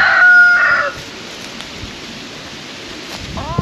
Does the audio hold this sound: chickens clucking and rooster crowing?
yes